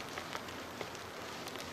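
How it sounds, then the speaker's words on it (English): Rain falling outdoors in a hilly, wooded valley: a steady, soft patter with scattered individual drops, heard close and alone with no talking. "Starting to rain."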